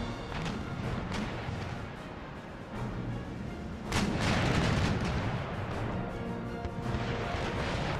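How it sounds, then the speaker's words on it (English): Cannon round shot firing in Empire Total War, a naval battle with heavy, rumbling booms rolling on continuously and one louder broadside burst partway through, under a dense bed of battle noise. "you keep pounding it with round shot"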